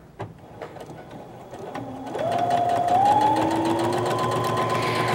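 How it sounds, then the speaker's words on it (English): A sewing machine stitches a 1/4-inch seam in fabric, starting with a few clicks and then ramping up into a loud, steady mechanical whir with a rising motor whine, close by and uninterrupted. "We're gonna take it over to the sewing machine and do a 1/4-inch seam allowance."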